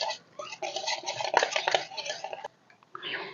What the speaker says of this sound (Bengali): সবগুলো একসাথে ভালোভাবে মিশিয়ে নিচ্ছি